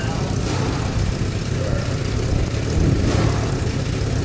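A rebuilt 2006 Chevrolet Cobalt 2.4-litre four-cylinder engine idles in a steady, close, even rumble that keeps its level throughout without revving.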